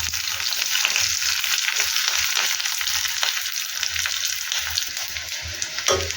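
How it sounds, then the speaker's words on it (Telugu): Onions, dried red chillies and curry leaves fry in hot oil for a tempering, giving a continuous close sizzle with occasional crackles and stirring scrapes, no voices. "ఇలా వేసుకుంటే అన్నీ పర్ఫెక్ట్గా ఫ్రై అవుతాయి."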